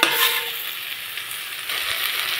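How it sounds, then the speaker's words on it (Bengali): Spiced potatoes sautéing with a splash of water in a pan for an egg and carrot curry, a steady soft sizzle with faint stirring scrapes throughout, close and alone. "এখন সামান্য জল দিয়ে মশলা আলু ভালো করে কষিয়ে নিতে হবে"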